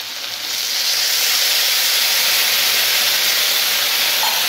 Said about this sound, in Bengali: আমি জল ঢেলে দেবো কিন্তু এখন।